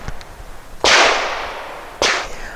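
A subsonic pistol round fires from a Grand Power Q100. Two sharp, close reports land about a second apart, each trailing off in a short echoing decay after a faint click.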